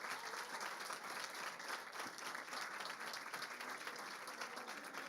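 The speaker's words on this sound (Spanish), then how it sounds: "De pie se ponen para aplaudirla." A standing audience at an award ceremony applauds the winner of an inspiring-woman category, with dense, continuous clapping that stays fairly even throughout and sits somewhat back from the listener.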